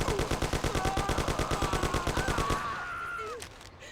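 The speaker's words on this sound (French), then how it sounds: "Des coups de feu!" Rapid gunfire in the video game Mafia, a long burst of evenly spaced automatic shots, loud and close, with shouting voices mixed in before the firing stops and leaves a fainter tail.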